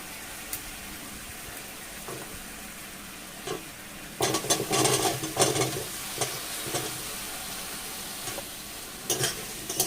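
Taro root fries in a pan while being stirred, a steady sizzle with intermittent scraping bursts that grow louder and busier after the first few seconds, no voices.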